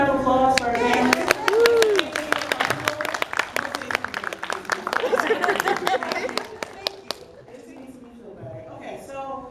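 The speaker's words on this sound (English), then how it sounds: "can we get a quick round of applause for our panelists?" A convention panel audience breaks into applause for the panelists, dense close clapping with crowd chatter and a voice over it, tapering off toward the end.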